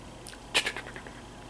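A cat gives a single short meow close by in a quiet room, bright and brief, with faint rustling before and after.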